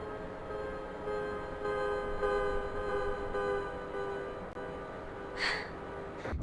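A train runs in a train-driving video game, giving a steady, droning rumble with a humming, tonal engine note. A brief higher chime or squeal sounds near the end, with no talking.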